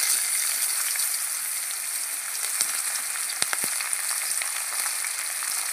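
Potatoes, onions and green chilli fry in a pan, a loud continuous sizzle with a few sharp crackles and pops, no voices.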